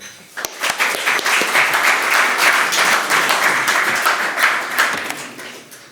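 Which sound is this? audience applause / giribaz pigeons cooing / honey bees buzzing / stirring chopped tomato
audience applause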